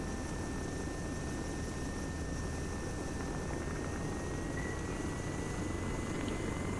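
The helicopter in the military game Arma 3 sends out a steady, broad rotor and engine drone that holds at an even level without a break, moderately distant and with no voices over it.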